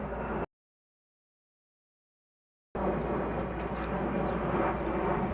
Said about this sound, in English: So planes passing overhead,